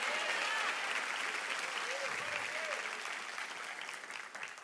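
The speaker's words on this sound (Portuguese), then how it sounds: "se é para aplaudir, aplaudo glorificando o nome do Senhor Jesus" Church congregation applauding during a sermon, a dense continuous wash of clapping that holds steady and then slowly fades toward the end.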